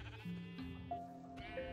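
Sheep bleating in Minecraft, several short wavering bleats in quick succession, clear and close with no talk over them.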